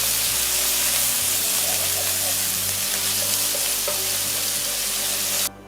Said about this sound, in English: ginger and garlic go into the mix and continue cooking till they